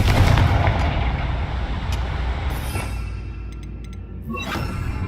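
In Hogwarts Legacy, Confringo spell blasts boom and rumble in a continuous loud barrage with crackling debris, and no voices.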